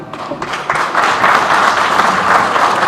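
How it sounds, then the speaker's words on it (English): An audience at a welcome program for returning Hajj pilgrims bursts into applause, a dense wash of clapping that swells after a brief start and holds steady and loud, without talk. "I want you to give a big applause to Brother Adil Rana"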